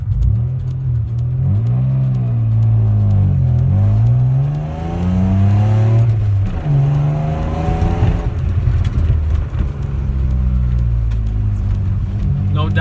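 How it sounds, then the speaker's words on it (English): A 1995 Mazda MX-6 accelerating from a takeoff, the engine note climbing through rising revs and gear changes, loud and close from inside the car, with a person talking over it. "Do a little bit of a takeoff right here. We're going to see how it performs."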